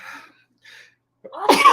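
One person lets out a single sharp, loud sneeze close to the listener after a couple of faint breathy sounds and a short pause, with no talking around it.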